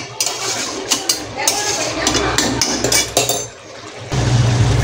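A pan of Bengali village-style chicken kosha being stirred, with repeated metallic scrapes and clinks of a spatula against the pan over a steady frying sizzle, close and fairly loud.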